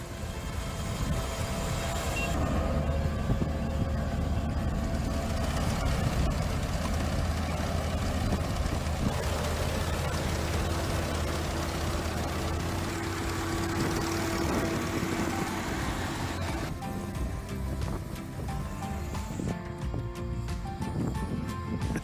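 A 73 horsepower Iseki HJ7135 tractor engine runs steadily in the field, a loud continuous low rumble with mechanical clatter and no pauses.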